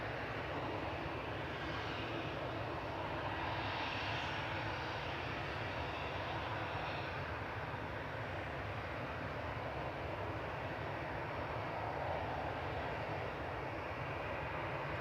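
An Airbus A321 airliner's broad engine roar passes steadily overhead as it lands at Manchester Airport, a continuous rumbling whoosh with no voices.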